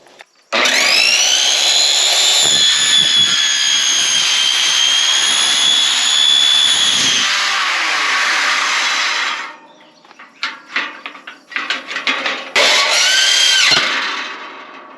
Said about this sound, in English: I'll finish those two with the jigsaw or my grinder here in just a moment.